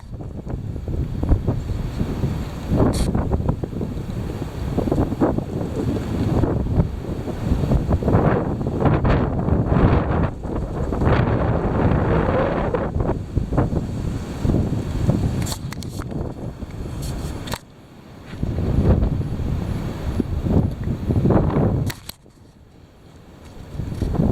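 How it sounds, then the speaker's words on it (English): Heavy wind roars and buffets hard against the microphone, with dense rumbling gusts that rise and fall and a few sharp drops into near-quiet before the blast returns. "The heavy wind."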